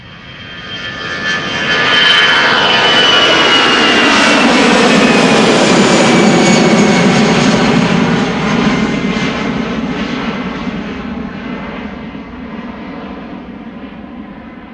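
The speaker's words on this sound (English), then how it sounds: "EasyJet flight 22162 A319 going to Manchester." A 13-year-old EasyJet Airbus A319 bound for Manchester at Amsterdam Schiphol swells into a loud jet roar after two seconds. A high engine whine glides downward before the roar slowly fades, with no talking.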